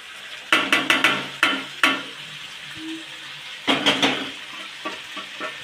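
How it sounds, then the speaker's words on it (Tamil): Squid sautéing with masala in a pan for a dry roast: a series of sharp scraping stirs and clinks of a spatula against the pan, in two bursts with a quieter gap between, over a faint sizzle. "இப்போ நம்ம அதை நல்லா வதக்கிக்கணும்."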